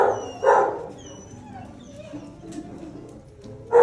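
A dog in an animal shelter kennel barks in a few sharp, fairly close bursts at the start and end, with quieter whining and yips in between.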